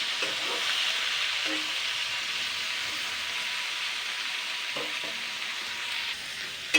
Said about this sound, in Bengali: জাস্ট দুই তিন মিনিট হালকা নাড়াচাড়া করে নিতে হবে